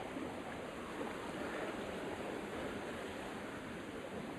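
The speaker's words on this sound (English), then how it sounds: "There's a wall of sound coming from the waterfall, which is just there." A steady roaring waterfall, a broad constant wash of rushing water with no pauses, close by and filling the background.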